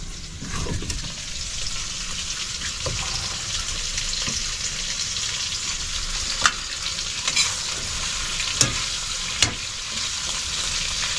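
Food sautéing in a pan over a wood fire outdoors, giving a steady, close frying hiss with a few sharp clicks and crackles.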